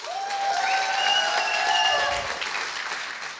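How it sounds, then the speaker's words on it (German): Audience at a prompt battle event claps and cheers for a picture, a moderate wave of applause with whistles and shouts mixed in, fading toward the end. "Und dann euren Applaus für Haralds Bild der Tanzeinlage"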